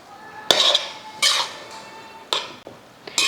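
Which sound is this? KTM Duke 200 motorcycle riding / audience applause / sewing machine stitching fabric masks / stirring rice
stirring rice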